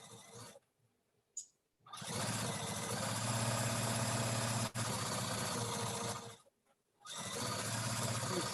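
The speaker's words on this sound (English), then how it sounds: "Oh, somebody's sewing really fast." A sewing machine running fast in steady, continuous bursts of rapid stitching, stopping briefly between runs, fairly close and alone without talk.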